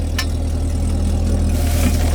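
A 2021 Camaro SS idles with an MBRP exhaust, headers, X-pipe and no catalytic converters, giving a steady, loud, close low rumble with no talk over it.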